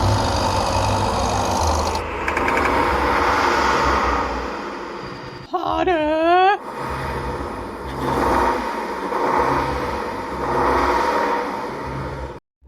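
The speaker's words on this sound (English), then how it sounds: "let's boot up the car" A car engine in a VR video game starts and revs with a steady buzzing drone, broken midway by a brief warbling whine, while a voice shouts over the noise.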